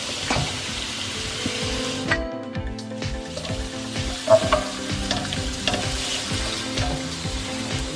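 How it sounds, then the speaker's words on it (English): Pre-made stir-fry sauce sizzles and crackles in a hot pan with chicken and rice cake sticks, a steady loud frying hiss with stirring clatter throughout. "So now add the pre-made stir-fry sauce."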